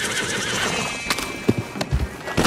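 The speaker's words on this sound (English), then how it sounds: "Cerberus is our new horse" A dark bay Turkoman horse in a western video game neighs clearly at the start, then hooves clop in a few close, uneven steps.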